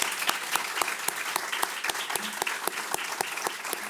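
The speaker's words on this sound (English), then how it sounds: "Please join me in a round of applause to two great presentations." Audience applause after two presentations at a conference panel on the liberal international order, a steady dense patter of many hands clapping with sharp individual claps standing out, filling the room without talk.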